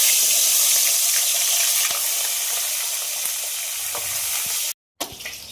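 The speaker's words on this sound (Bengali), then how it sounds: "তেল গরম হয়ে গেছে এবার মাছগুলো ভাজার জন্য ছেড়ে দেবো" Pomfret fish, rubbed with salt and turmeric, sizzle loudly in hot oil with a dense, hissing crackle and a few faint clinks, then cut off abruptly near the end before a brief return.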